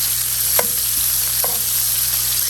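Italian sausage sizzles steadily in a hot pan with a bright, continuous crackle, broken by a few soft scraping knocks as a utensil crumbles the meat into small pieces.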